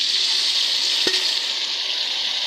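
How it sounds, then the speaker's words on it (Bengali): Rice tipped into a pan of frying chopped onion and ginger gives a brief thud, then a steady, close oil sizzle runs throughout without any talking. "পেঁয়াজ আদা কুচি ভাজা হয়ে গেছে। এবার দিয়ে দেবো চাল,"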